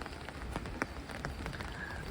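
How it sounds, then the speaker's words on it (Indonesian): Rain falls near a waterfall, a steady hiss of water with scattered sharper drops and taps standing out now and then, without voices. "agak curah hujan, jadi aku harus hati-hati"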